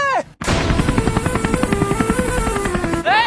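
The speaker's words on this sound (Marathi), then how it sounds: "मिस्त्री हेलिकॉप्टर कुणाच घेऊन आलाय" A helicopter brought to a garage for repair runs loud and close, its rotor chopping in a steady rapid beat after a brief silence, with no talk over it.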